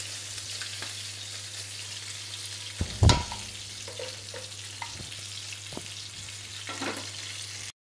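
Small hilsa fish frying in plenty of oil, a steady dense sizzle throughout with a sharp burst of spattering about a third of the way in and occasional soft clicks.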